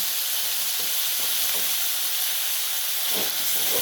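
Tinola chicken soup being stirred in a pot, a steady steamy sizzle and hiss with a few soft scraping stirs, close and fairly loud with no talking.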